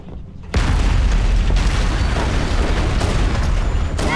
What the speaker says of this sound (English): That one was a grenade.